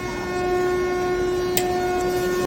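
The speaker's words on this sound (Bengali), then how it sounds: "এই যে ট্রেনটা আছে হলদিয়া টু হাওড়া" Haldia to Howrah train standing at Durgachak Town station, giving a steady loud rumble with a sustained tonal hum and a brief sharper burst partway through, no voices.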